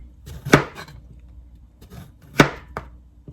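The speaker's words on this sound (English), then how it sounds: "I'm just cutting them about 1/2 1/2 inch, a 1/4 of an inch, something like that." Knife slicing a cucuzza squash into thin rounds on a board, two or three sharp close chops separated by quiet pauses, without talking.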